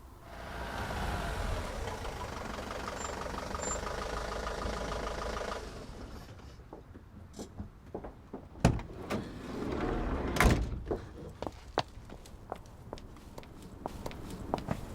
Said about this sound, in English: the passenger assistant gets out to knock for a child as they've arrived late for the pickup